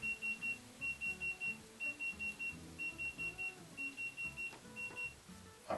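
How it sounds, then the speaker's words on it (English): Short repeated electronic beeps from a CIGMAN CD-60 laser distance meter measuring a wall, sounding in steady rhythmic bursts of several quick tones each, close and clear over a low background hum. "You hear the beeping?"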